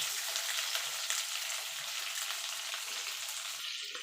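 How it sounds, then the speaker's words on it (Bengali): Pumpkin pieces sizzling and frying in oil in a pan while being stirred for a vegetarian pui shak chorchori, a continuous close hiss with faint scraping, fading slightly toward the end. "কুমড়োটা দিয়ে মিনিট খানেক একটু নাড়াচাড়া করে নেব"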